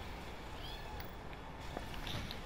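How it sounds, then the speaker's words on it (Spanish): A pet cat meows faintly a few times in a room, thin short cries heard over a steady background of Destiny 2 game sound. "Ahí está mi gato llorando, no sé por qué"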